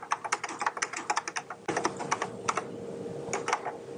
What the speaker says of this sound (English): I can point at any place and start typing